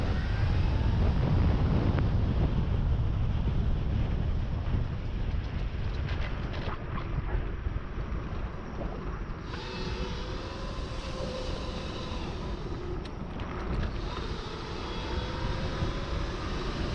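Electric bike with an Ec4p motor at full throttle, heard as a continuous loud rush of wind and motor whine building over the ride, with no talking.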